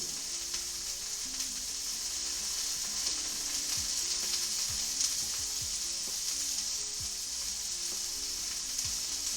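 Ginger sizzles steadily in a pan for shrimp fried rice, a continuous bright frying hiss at even loudness with scattered soft pops and clicks throughout.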